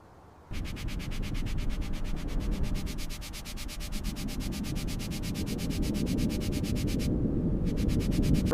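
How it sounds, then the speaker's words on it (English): A power sander works over old wooden porch beams on an abandoned farmhouse being restored, giving a steady, close, rough whirring grind that runs continuously with no talk. "Keep sanding that section."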